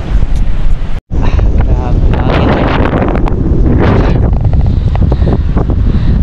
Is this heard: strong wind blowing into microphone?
yes